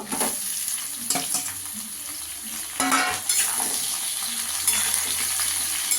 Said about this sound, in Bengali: আমার আলুটাও লাল করে ভাজা হয়ে গেছে। এবার সব সবজিগুলো দিয়ে দেবো।